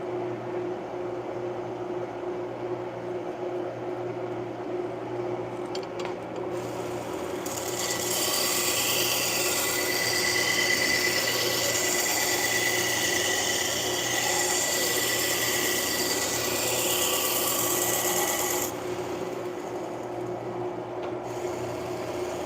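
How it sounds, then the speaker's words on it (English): A knife blade is ground on a heavy-grit belt sharpener, a constant motor hum with a louder, hissing abrasive rasp that swells for about ten seconds in the middle while the blade is pressed to the belt. "I have to use a heavy grit. But there's no heat on my blade."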